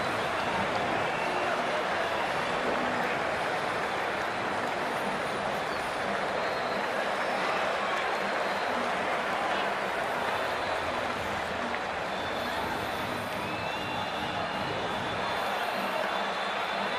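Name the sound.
stadium crowd in cricket video game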